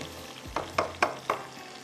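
Onions browning in a pan with a soft, steady sizzle, broken by four sharp scrapes or stirs spaced a little apart, close and fairly quiet with no talking.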